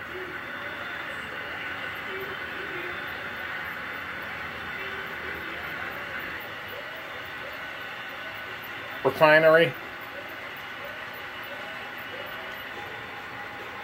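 A steady low rumble and whir of a seven-unit, all-powered Penn Central model train running along a track, with a brief louder burst of noise partway through and a voice briefly speaking.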